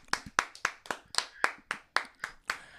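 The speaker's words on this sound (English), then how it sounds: "I'm still clapping." Ten or so sharp hand claps in a steady, fairly quick rhythm, close and clear, with no talking over them.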